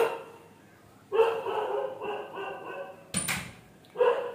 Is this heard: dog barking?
yes